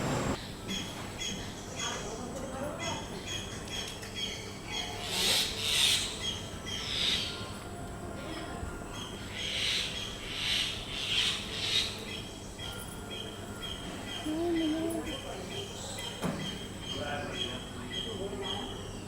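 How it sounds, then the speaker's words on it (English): Common mynah giving loud squawking screeches, a few harsh bursts clustered mid-way and again later, over steady outdoor background with some voices present. "The common mynah screeches warnings to its mate"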